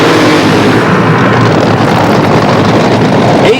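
Continuous loud roar of 2,000 horsepower nitro-burning Top Fuel dragster engines at a 1981 NHRA Gatornationals drag race, a dense, saturated blast that holds steady throughout with no talk.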